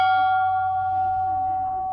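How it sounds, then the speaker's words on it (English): An old jail bell rings once, a clear sustained metallic tone that slowly decays over two seconds, with faint voices low in the background. "so I think the bell works, eh?"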